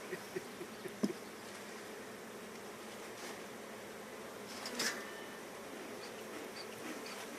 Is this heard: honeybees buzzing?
yes